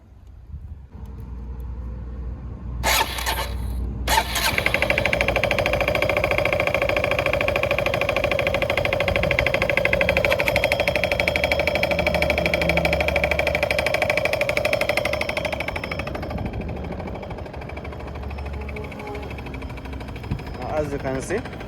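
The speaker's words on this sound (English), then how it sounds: "So now we have put a new CVT belt. Let us start the bike and we see." A Honda Forza MF08 scooter with a freshly fitted CVT belt starts up after a couple of sharp clicks and settles into a steady, fairly loud engine drone that fades slightly toward the end.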